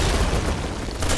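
A grenade goes off in a free-to-play online shooter, a single loud, close, rumbling blast filling the whole moment with heavy low-end roar and no talk over it.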